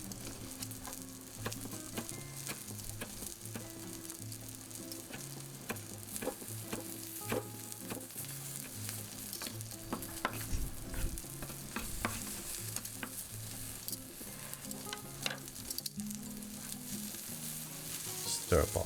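Pieces of beef frying in a pan are stirred, giving a soft, continuous sizzle broken by repeated scraping and clinking strokes at an uneven pace, fairly quiet and close.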